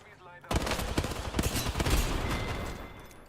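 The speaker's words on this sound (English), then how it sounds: "I'm sure the grenade plus the gunshots." Rapid video game gunfire and a grenade burst in a combat shooter, a sudden loud volley of shots crackling close up after a brief quiet moment with a voice.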